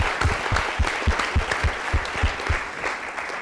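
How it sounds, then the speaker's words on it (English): A round of applause from a late-night talk show audience greets the guest, a student body president, with steady, fairly close clapping that keeps an uneven rhythm for the whole stretch. "Can we get a round of applause for Stavi?"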